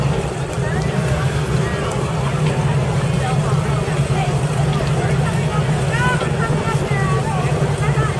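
A ZR48 Corvette-engined motorboat drones steadily with rushing water noise, loud and continuous, while people chatter in the background.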